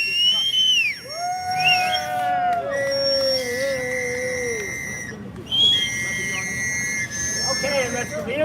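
Whistles blown by protesters outside the British Consulate in New York City, several long wavering and sliding tones overlapping loudly, with a crowd murmuring underneath.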